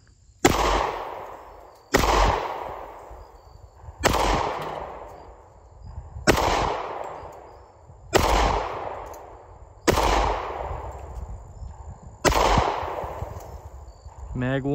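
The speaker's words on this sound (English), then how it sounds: "Now, I figured I'd go ahead and shoot some of these wood targets I have out here." Seven sharp .45 ACP pistol shots from a Springfield XDS Mod 2 fired at wood targets outdoors, spaced roughly two seconds apart, each loud crack followed by a short ringing decay.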